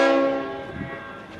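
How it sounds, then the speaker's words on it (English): A Leslie RS5T horn on V/Line locomotive N456 sounds a single loud, chord-like blast that is cut off and fades over about a second. Only rail-yard ambience remains after it. "we do have the Leslie RS5T horn. N456."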